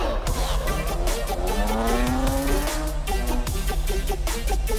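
A drift car's engine revs hard and close while its tires squeal in long, rising screeches, with loud, rough exhaust pulses running throughout.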